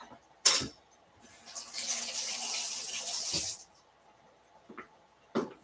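A vegetable gets rinsed under a running kitchen tap, a steady hiss of water for a couple of seconds, framed by a few close knocks and clatters, with no talking.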